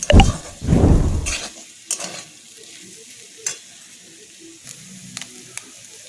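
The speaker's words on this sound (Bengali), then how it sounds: "এইভাবে ডিমটাকে আমি এই আলুর পুরের সাথে মিশিয়ে নেব।" Egg is stirred into a potato filling in a pan, starting with a loud burst of sizzling that fades into quieter scattered scrapes and taps of a spoon, close by with no speech.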